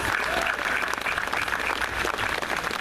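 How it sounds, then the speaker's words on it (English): A crowd at the Atlanta Streetcar opening ceremony breaks into sustained applause, dense steady clapping from many hands that holds for about three seconds, close and fairly loud. "I think that deserves a big round of applause."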